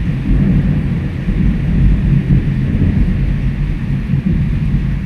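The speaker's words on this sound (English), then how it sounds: "That's a proper fucking storm, guys." A heavy thunderstorm in Krabi gives a loud, continuous low rumble and roar of rain and wind, dense and steady throughout with no voices.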